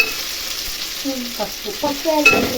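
Raw banana curry with ginger frying in a pan, a steady low sizzle with light stirring running beneath a person speaking.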